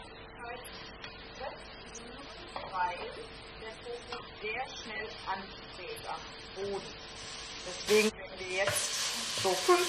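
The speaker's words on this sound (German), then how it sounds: "Bei etwas höherer Hitze den Tofu und die Zwiebeln gemeinsam anbraten." Tofu and onions sizzle steadily in a hot pan, with a constant crackling hiss, scattered stirring scrapes and a louder burst of sizzling near the end.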